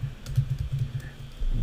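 Fingers type on a computer keyboard while coding a web form, producing a quick run of soft, close key taps followed by a slightly louder press at the end, with no speech.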